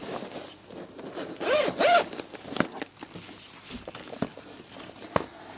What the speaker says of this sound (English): there is an internal pocket secured by a zip as demonstrated